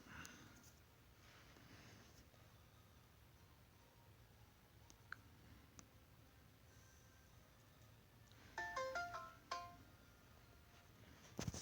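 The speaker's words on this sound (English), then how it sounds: "Oh, shut up, your notifications." Phone notification alerts sound late in the clip, a quick cluster of bright, high chiming tones followed by another short chime. They rise over a quiet, steady background hiss, with no talking.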